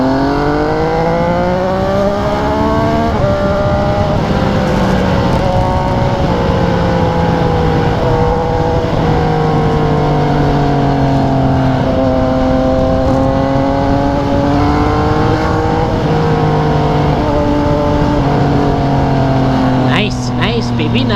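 A Subaru car drives fast past a Yamaha MT-09 motorcycle on a road in Japan, its engine note rising and shifting through gears alongside the bike's steady engine and wind noise, with a voice talking over it.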